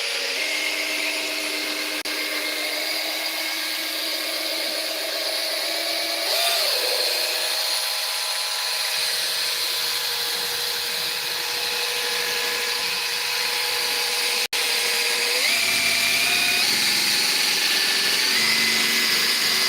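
A rotary polisher fitted with a rippled foam pad runs steadily and loudly, its motor whine climbing in pitch as the speed is stepped up in stages, with no talking.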